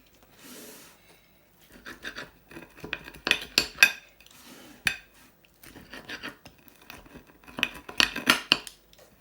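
Scraping and rasping of a knife or cutter slicing through a homemade pizza, repeated bursts of gritty cutting strokes with clinks against a plate, close and fairly quiet with pauses between strokes.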